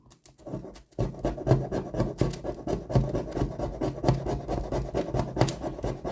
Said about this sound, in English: just scrape the plastic away, just using that corner of the file